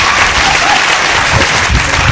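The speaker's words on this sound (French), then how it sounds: "S'il vous plaît, applaudissez." Sustained applause from a large audience at a business forum, a dense, loud wash of clapping throughout with no break.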